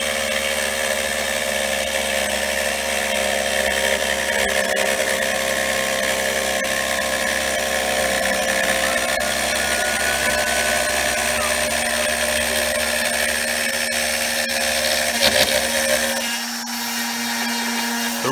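A new router on a 4x8 CNC machine cuts an arcade cabinet piece, ramping into the material. It gives a loud, steady, close whine with a constant drone that runs throughout and drops off slightly near the end.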